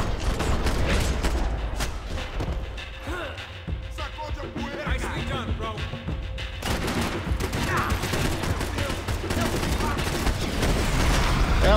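Sustained gunfire in the shooter game Max Payne 3, loud, dense bursts of shots layered with game effects across the whole stretch, with a voice speaking over parts of it.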